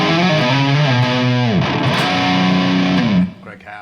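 Heavily distorted electric guitar through the high-gain channel of an ENGL amp plays sustained, gliding notes with a thick tone, ringing out loudly before cutting off abruptly.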